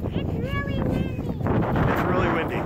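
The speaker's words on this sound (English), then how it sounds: "It's really windy." Steady wind buffeting the microphone outdoors near Des Moines at 12 degrees, a continuous broadband roar with gusts, while voices talk faintly in the background.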